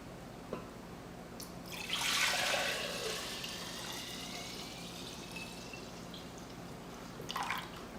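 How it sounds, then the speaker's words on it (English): Ginger syrup pours slowly in a soft, splashing trickle that swells for a couple of seconds, then thins to a quiet, steady stream before fading. "So I'm gonna pour it very slowly."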